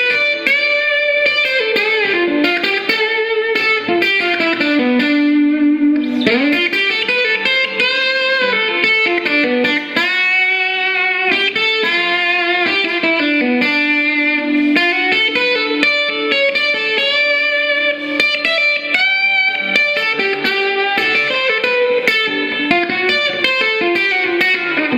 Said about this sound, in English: Add some more reverb. Get a nice sort of blues.